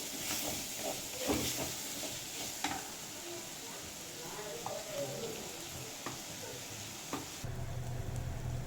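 Garlic and small shallots fry in a pan for a Tamil fish puttu dish, giving a soft continuous sizzle with occasional stirring clicks at close range, and someone talks over it.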